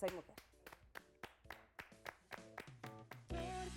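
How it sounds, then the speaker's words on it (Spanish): An audience gives scattered, rhythmic applause at a live stage show, each clap distinct and moderately close, with a voice coming in over the claps near the end. "un gran aplauso"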